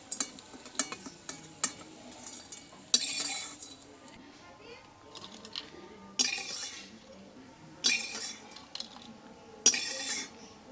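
A spatula stirs crispy fried red lentil fritters in a pan, with soft scrapes, light clinks and a faint sizzle, plus a few louder clatters of the fritters turning.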